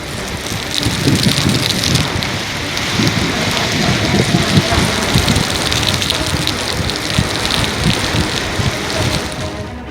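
Monsoon rain in North Bengal falling steadily, a loud dense hiss of drops striking surfaces that holds constant and close, with no voices.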